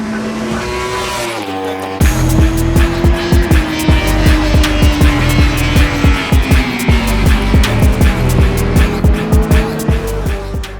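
A Yamaha R1 superbike races hard on a circuit in the International Dutch Championship, its engine screaming loud and close, revving up and down through rapid gear changes with a steady pulsing rhythm.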